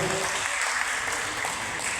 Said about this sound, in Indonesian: Tepuk tangan dulu, berdiri dulu anakku.